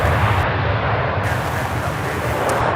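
American Airlines airliner, flight 749 from Madrid, at Charlotte Douglas International Airport, a broad steady jet roar heard from a distance with rumbling low end and no talk.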